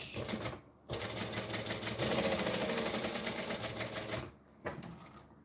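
A sewing machine back stitches reptile-print fabric in a quick, rattling burst of several seconds, close up, with short pauses before and after.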